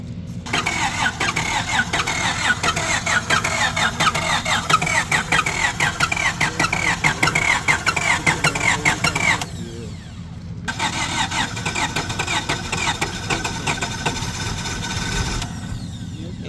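A Honda car engine in rough, worn condition cranks over repeatedly on a jump start box without catching, a close, loud, rapid churning in two long bursts separated by a brief pause.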